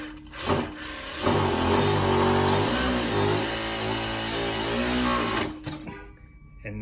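A Consew 794-7DD overlock sewing machine runs in one steady, loud burst of rapid mechanical whirring for several seconds. Brief clicks and handling sounds come before and after it.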